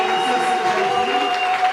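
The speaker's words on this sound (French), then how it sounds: "Nous recevons Papa François sous vos applaudissements." Applause and cheering from an audience at a religious wedding ceremony with a nuptial blessing, a dense, steady wash of crowd noise that stays loud for under two seconds.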